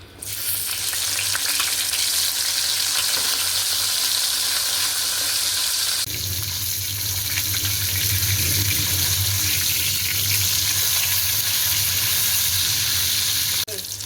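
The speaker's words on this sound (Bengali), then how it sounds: "তেল ঢেলে দিয়েছি, এখন মাছগুলো তেলে দিয়ে দেবো।" Pieces of catla fish fry in hot oil with a loud, continuous hiss and crackle that swells even stronger about halfway through, close up and without any speech over it.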